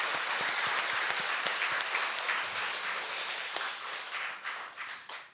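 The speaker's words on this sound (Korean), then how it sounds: "Let's give a round of applause to the living God." Church congregation applauding during a Sunday service, steady dense clapping that carries on for several seconds and tapers off at the end.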